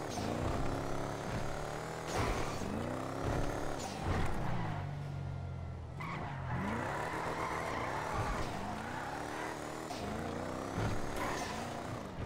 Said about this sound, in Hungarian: Az a váltó hang, váltás hang